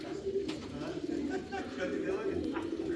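Pigeons coo in low, throaty, repeated bursts, close by, with faint background noise and occasional soft rustling.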